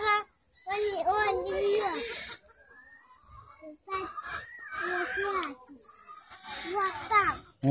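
Small chickens cluck softly at a vivarium in Chisinau, brief calls heard between and beneath an adult and someone talking nearby.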